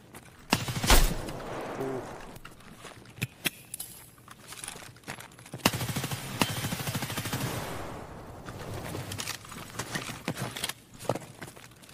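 Bursts of 7.62 AK rifle fire in the Escape From Tarkov shooter game, with a loud shot early on and scattered sharp reports and clatter throughout, loud and close.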